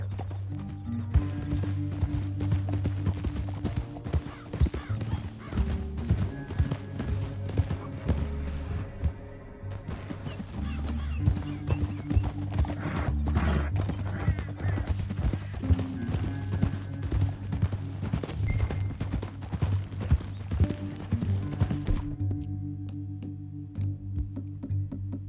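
Horse hooves gallop in Red Dead Redemption 2 through a canyon, a loud, steady rhythmic clip-clop running for most of the stretch over a low music bed, with an occasional whinny, before fading out near the end.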